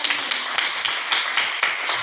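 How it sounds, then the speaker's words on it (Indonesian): Schoolchildren in an elementary school classroom clap for a classmate, with a brisk, fairly loud patter of hand claps and sharper accents recurring about every quarter second, with no talk over it. "Oke, berikan tepuk tangan untuk Alvina."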